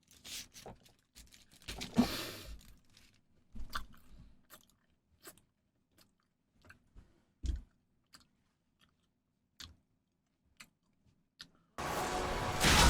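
Crisp crunching bites of a Crunky chocolate bar come in uneven bursts with quiet gaps between them, close and fairly loud, and a harsher noisy burst closes it out.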